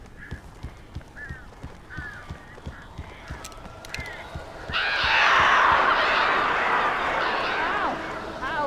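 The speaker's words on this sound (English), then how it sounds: "These birds are weird." Inside a house in the Alan Wake 2 video game, birds that got in before the chimney was blocked give short honking calls over rhythmic thumping footsteps, then a loud burst of fluttering wings and shrill cries.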